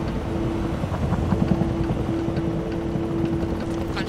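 A helicopter airlift arrives in the military strategy video game Tom Clancy's EndWar, a steady rotor-and-engine rumble with a sustained droning tone, moderately loud and continuous throughout.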